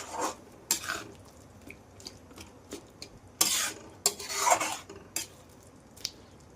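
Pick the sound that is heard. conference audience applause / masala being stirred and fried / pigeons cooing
masala being stirred and fried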